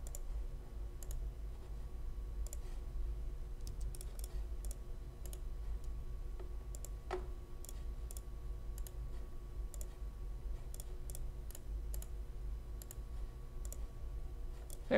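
Faint, crisp computer mouse clicks come in scattered singles and quick pairs, quiet and close over a steady low room hum, with no talking.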